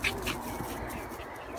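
A dog grunts and growls softly at close range in a brief, low, rough burst during play over a ball, with no talking.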